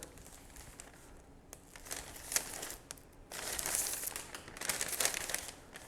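A sheet of paper is unfolded and handled, giving faint, continuous crinkling and rustling that swells in several bursts, heard alone without talk.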